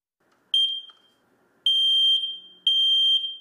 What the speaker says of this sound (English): Show your family what the alarm sounds like and what to do when they hear that sound.